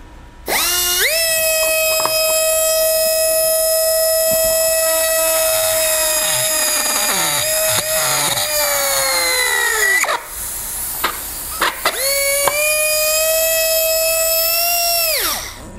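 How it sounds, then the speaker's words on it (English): A power drill boring a hole into a plastic GoPro Hero 3+ housing, a loud sustained whine that dips in pitch as it bites, pauses briefly, then spins up again. "I've started a little hole there, kind of drilled it through"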